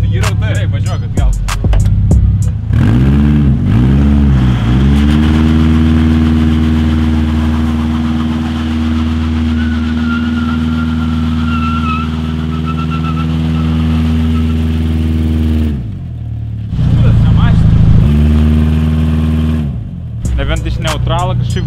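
A race car engine idles, then revs up and down in repeated rising and falling pulls as the car drives back, loud and close, with a sharp cut, a burst of throttle and people talking nearby.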